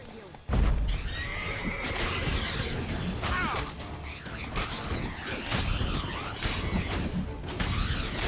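Roach, a horse in the video game The Witcher 3: Blood and Wine, neighs and whinnies over a busy game soundscape with hoof clip-clops and creaks, and speech is faintly mixed in.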